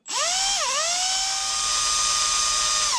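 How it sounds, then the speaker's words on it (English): A high-pitched electric drill whines steadily up close, drilling the center section of an RC crawler, dipping briefly in pitch as it bites, then holding a constant loud tone. "I'm going to drill it."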